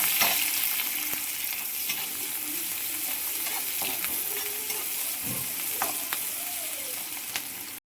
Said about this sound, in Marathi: आता याच्यामध्ये आपण टाकणार आहे बघा कांदा. चांगला भाजून घ्यायचा आहे बघा लालसर होईपर्यंत.